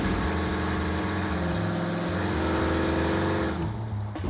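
A 1971 Cadillac Sedan DeVille with a 6-liter engine cruising hard, its loud, steady low rumble filling the whole stretch up close before easing slightly near the end.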